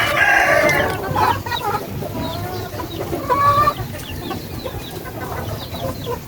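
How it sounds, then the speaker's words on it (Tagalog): A rooster clucks and crows close by, loud and repeated, with short bursts of calls and chatter over a busy farmyard background of other fowl. "itong tandang na to."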